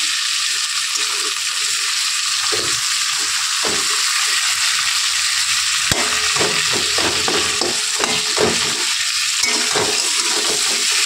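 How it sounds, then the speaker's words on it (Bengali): A fish head frying in a pan while being broken up and stirred makes a loud, steady sizzle, with repeated scraping and clattering strokes of the spatula throughout. "এখন মাছের মাথাটা এর ভিতরে দিয়ে দেবো। মাছের মাথাটা দিয়ে মাছের মাথাটা ভালো করে ভেঙে নেব, এটা একটু ভাজা ভাজাটা ভালো হয়।"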